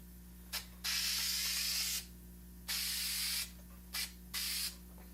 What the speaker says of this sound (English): And then I'm going to take my spray glue